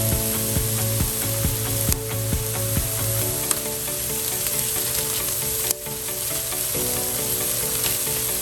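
Carrot ginger chicken stew sizzles steadily in a pot while being stirred, with rhythmic scraping and clicking strokes of the spoon over a continuous frying hiss, close and alone with no talking.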